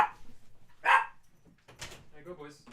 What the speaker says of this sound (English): Dogs are barking. Let me let the dogs out.